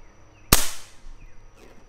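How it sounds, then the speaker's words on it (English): A single sharp snap from the trigger of a stock Hatsan Factor RC air rifle, one crisp click at close range with a short fading tail, heard alone. "So I'm gonna do a trigger pull."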